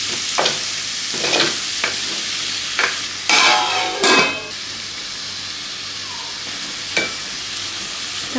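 Onions with a pinch of salt frying in a hot pan for a chicken curry, stirred in bursts of scraping and sizzling, loudest around the middle, then a quieter steady sizzle with an occasional clink.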